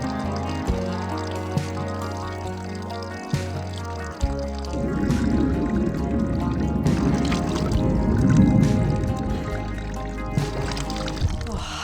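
Running water outdoors on an Alpine hut-to-hut trek, used for a wash: a steady pour and splash of water, louder in the middle, with a low hum at the start.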